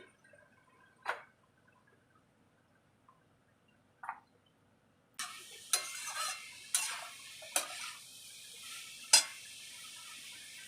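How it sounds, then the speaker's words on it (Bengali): Soya chunks tipped into hot oil in a pan: a few faint clinks in near-silence, then a sudden loud sizzle that keeps hissing, with sharp spoon and pan clatters on top. "এবার আমি সয়াবিন দিয়ে দেব।"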